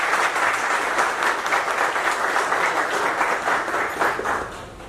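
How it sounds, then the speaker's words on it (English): An audience at a training session breaks into sustained, dense applause lasting several seconds, steady and fairly loud, fading slightly at the end. "I think we need to clap for him."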